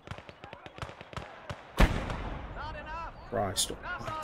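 Tank gunfire and explosions in Gates of Hell: Ostfront during a WWII Invasion of Poland battle against Polish armoured forces. A quick string of sharp shots leads into one heavy, booming blast, and someone talks over the rumbling aftermath.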